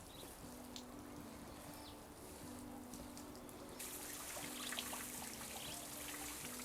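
Water trickling and draining steadily through the akadama-based soil of a potted deciduous bonsai, a soft continuous flow that grows slightly brighter partway through, with a faint steady hum beneath.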